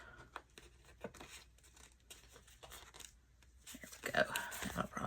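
Paper sides of a handmade collage being trimmed, giving close, quiet crisp snips and rustling crinkles that grow louder and busier toward the end.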